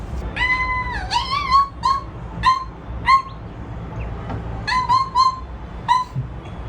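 A person imitates a dog barking with a series of short, high, yelping vocal barks in uneven bursts, fairly close and clear over faint background noise.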